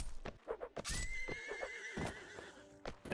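A horse neighs loudly in a video game, its whinny rising over a run of clip-clopping hooves, close and clear with no talk.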